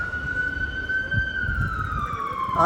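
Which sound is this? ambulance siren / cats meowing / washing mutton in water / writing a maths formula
ambulance siren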